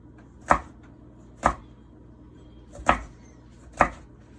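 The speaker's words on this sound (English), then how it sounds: "Cutting them just a little bit smaller," A knife chops peppers into small cubes on a cutting board, giving four sharp, separate strikes at uneven intervals against a quiet kitchen background.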